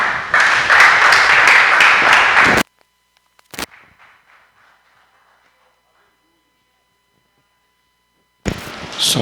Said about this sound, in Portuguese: Aplaudimos ao Senhor.